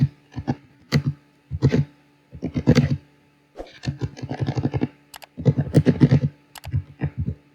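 Keys clatter on a computer keyboard while Python code is written, in quick bursts of close clicks separated by short pauses, with no speech.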